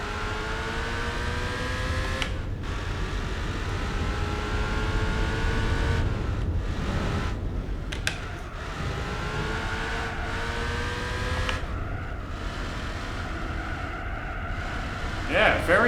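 Engine of a car in the Gran Turismo 4 racing game revving steadily, rising and falling in pitch across gear changes, loud and continuous, with someone talking over it.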